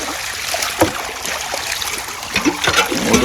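Irrigation canal water flows steadily and fairly loud, with gurgling, splashing rushes and a few louder surges, heard alone without talk.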